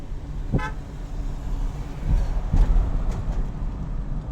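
A car on the Rajampet ghat road passes close by a loaded truck, with steady engine and road rumble, a short horn toot early on and a couple of thumps, heard from inside the truck cab.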